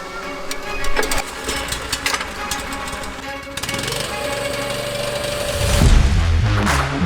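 A reel lawn mower cuts freshly renovated TifTuf Bermuda couch grass set to 8 mm, picking up sand; a steady close mechanical whirr with rattling runs throughout, swelling louder near the end.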